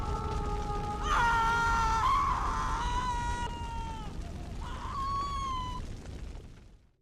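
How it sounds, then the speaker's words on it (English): A woman's scream in the horror game Pathologic 2, a high wavering cry that rises, cuts off, then returns briefly over a steady low ambient drone before fading out. "A scream. The poor thing."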